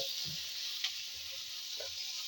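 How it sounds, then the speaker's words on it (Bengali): Cauliflower florets frying in a pan give a steady, close sizzle throughout, with a few soft stirring knocks and no talking. "ফুলকপিটা আগে একটু ভেজে নিই"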